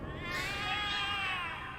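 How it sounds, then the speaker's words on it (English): Cats meowing in the video game The Cat Lady, a steady overlapping wail of rising and falling tonal cries that carries on without a break for about two seconds, with no talking. "The cats are alarming."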